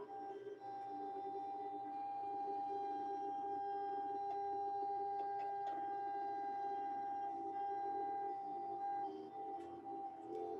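A Silhouette Cameo Pro cutting machine slicing quilting-weight cotton gives a steady, even motorised whir with faint tonal hums, continuous and fairly quiet for the whole stretch, with no voices.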